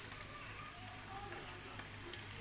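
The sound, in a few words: sauteing shrimp paste (bagoong) in pan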